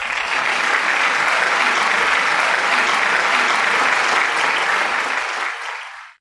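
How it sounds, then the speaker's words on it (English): Loud, sustained audience applause at a world parliament of science, religion and philosophy welcoming a speaker, dense clapping filling the hall for several seconds before fading out. "With a big, big round of applause, please welcome Dada Gunamuktananji."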